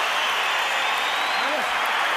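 A boxing arena crowd at the Floyd Mayweather vs Oscar De La Hoya fight cheers and applauds for De La Hoya, a dense steady roar of noise with a commentator's voice running over it.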